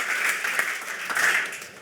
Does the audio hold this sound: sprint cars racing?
no